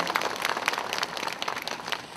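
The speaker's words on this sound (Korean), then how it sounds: "귀한 걸음 해주시고 축사까지 전해주신 최영천 문화재 청장님께도 다시 한번 감사의 박수 부탁드립니다." A crowd at the opening ceremony of the 2023 Buddhist culture expo gives a round of applause, many hands clapping in a dense, steady patter that stays moderately loud throughout with almost no talking.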